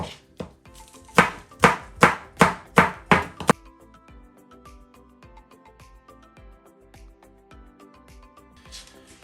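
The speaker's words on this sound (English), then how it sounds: "So here I'm gonna chop my spring onions and the ginger to really small pieces." A knife finely chops spring onions and ginger quickly and steadily on a cutting board, about eight sharp strikes in a row, then softer scraping and tapping afterward.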